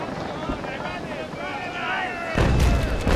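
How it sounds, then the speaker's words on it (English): Small 2-pound pickle guns fire aboard a sailing warship in the Naval Action video game, a sudden loud blast of cannon fire after a stretch of wind and creaking ship noise, with talking over it. "Let's fire my pickle guns at her."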